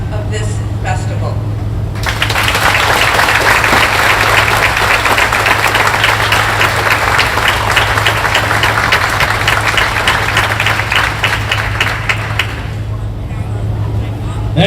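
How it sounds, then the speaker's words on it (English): An audience at the Hmong Wausau Summer Festival in Wisconsin gives a dense round of applause that starts abruptly, holds steady for about ten seconds over a low background hum, then fades out. "One more round of applause"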